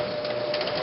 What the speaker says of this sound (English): you're just going to sew all the way down the 1/4 inch seam allowance